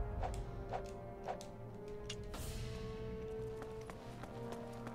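A horse gallops in the video game Attack on Titan: Wings of Freedom, its hooves giving a steady, fairly quiet clip-clop rhythm over a constant game background.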